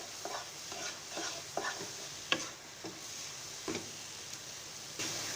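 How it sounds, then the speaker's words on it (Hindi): A spoon stirs semolina halwa with milk in a pan over high heat. Soft, rhythmic scraping strokes come roughly every half second over a faint, steady sizzle, with no talking. "चम्मच से हम मिक्स करती जाएंगे।"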